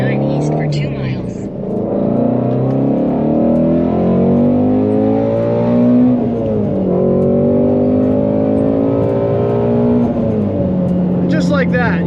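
Ford Mustang Shelby GT350R Heritage Final Edition engine pulling hard on Tennessee 149, a loud, steady rising drone with smooth gear-shift dips, heard from the cabin under continuous overlapping speech.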